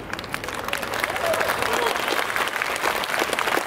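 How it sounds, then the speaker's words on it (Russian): Audience applause during a presentation in Moscow, a dense, steady roar of clapping from a large crowd, heard slightly distant, with a faint voice briefly rising through it. "Я услышал аплодисменты."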